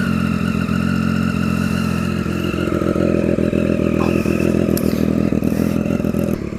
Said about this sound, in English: This is the loudest can that they make, by the way. You should know that. Startup.